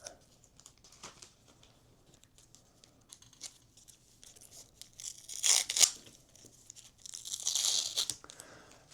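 A plain white paper envelope holding trading cards is torn open in two short, sharp ripping bursts close by, followed by a longer crinkling rustle of paper in an otherwise quiet room.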